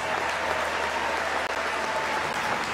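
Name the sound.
audience applause at a tennis ceremony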